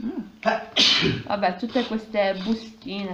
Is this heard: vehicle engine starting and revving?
no